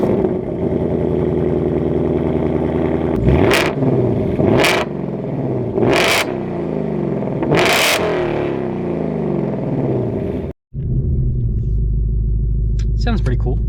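A 2025 Ford Mustang RTR with a manual gearbox and 800 horsepower rumbles loudly up close, its engine revving in several sharp bursts and pulling hard, then dropping to a deep steady idle after a brief cut.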